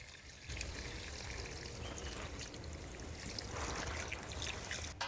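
Water pours in a steady stream into a pan of cooking potatoes for a green banana and peel curry, a continuous close trickle that swells slightly toward the end.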